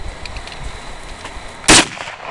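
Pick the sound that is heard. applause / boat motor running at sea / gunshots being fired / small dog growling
gunshots being fired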